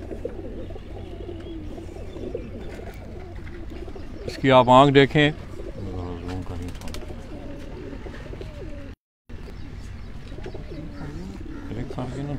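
Breeder pigeons coo on a rooftop, their low throaty calls rolling steadily underneath someone talking close by, with a louder burst of cooing in the middle.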